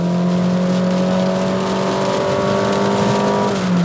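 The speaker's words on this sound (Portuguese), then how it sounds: "acelerando tudo. Você vê que o motor berra bem, né?" A 2022 Honda City Touring sedan engine revs hard under acceleration, a loud steady drone with rising tones heard from inside the car, no talking.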